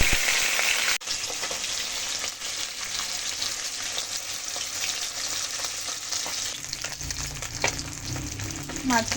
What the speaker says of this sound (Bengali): কড়াইতে তেল গরম হয়ে গেছে, একটা ভোলা মাছগুলো দিয়ে দেবো।